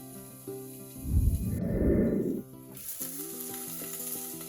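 Minced meat frying in a pan, with a loud sizzling burst lasting about a second and a half that rises over background music and then fades back.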